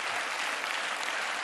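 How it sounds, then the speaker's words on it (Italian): A television studio audience breaks into dense, sustained applause, with many hands clapping in a continuous even wash that is loud and fills the whole moment. "Questo applauso è per Gaber e se lo merita"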